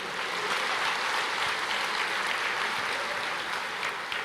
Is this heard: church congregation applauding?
yes